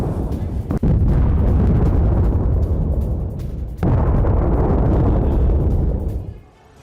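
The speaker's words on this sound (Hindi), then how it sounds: "इस नुकसान के लिए उसने 30 रॉकेट का इस्तेमाल किया और उसके जरिए देखिए किस तरह का भीषण हमला हुआ" Hezbollah rocket strike explosions in Lebanon, heavy booming blasts and rumbling roar that fill the scene loudly, with a sharp break midway before another sustained burst, fading out at the end.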